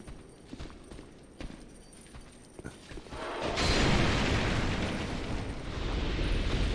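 Enemies blowing up in the video game SuperDeadMan, a sudden loud burst that swells into a sustained roaring rumble after a stretch of scattered clicks and thuds.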